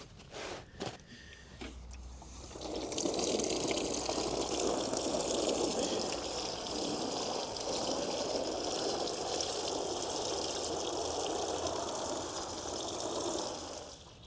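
Water swishes and bubbles steadily around an air mattress being checked for leaks. The sound stays close and fairly quiet and follows a few brief knocks at the start.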